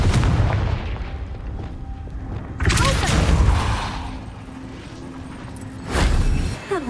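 Confringo blasting spell explosions from Hogwarts Legacy: two or three deep, booming blasts with crackling tails, one near the start, a loud one midway and another near the end, over a low rumbling game ambience.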